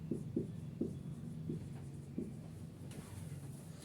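Chalk or marker writing on a board in a chemistry class: quiet taps and short strokes spread irregularly over a low room hum.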